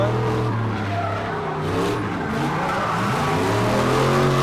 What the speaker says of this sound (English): now we hear that V8 coming